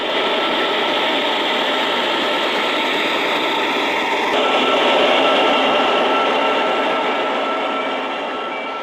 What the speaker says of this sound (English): The distant headlight and growl of an Alco announces the arrival of a loaded train from the mine.